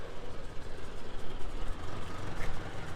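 A 1953 Ford NAA Golden Jubilee tractor engine runs steadily at close range, a dense, loud low rumble that holds even throughout the short stretch.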